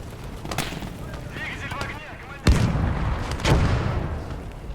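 A tank is destroyed by gunfire in the tabletop war game Legion of the Damned, with heavy booms and blasts bursting out at intervals over a rumbling battle soundscape, loud and close.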